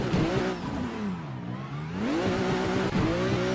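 A drift car engine in Assetto Corsa revs hard as it is floored, pitch dipping and then climbing again, loud and continuous with a steady droning roar throughout.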